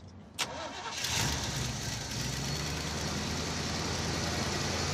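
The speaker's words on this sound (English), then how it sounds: "I'm finding neutral and firing it up." A 1972 Plymouth Duster engine cranks over after a sharp click, catches and settles into a steady, loud high idle with the choke still on, rumbling continuously close by.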